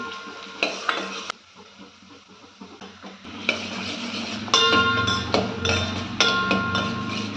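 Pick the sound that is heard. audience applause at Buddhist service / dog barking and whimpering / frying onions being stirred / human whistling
frying onions being stirred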